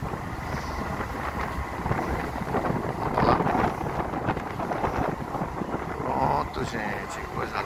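Wind roars steadily across a rocking motorboat in motion, loud gusting microphone rumble blended with hull and water noise, with someone talking throughout.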